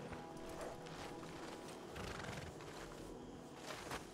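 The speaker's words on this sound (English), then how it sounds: "This one already has horses." Horses in Red Dead Redemption 2 clip-clop steadily and give out whinnying neighs, a continuous moderately loud mix of hooves and horse calls with no talk.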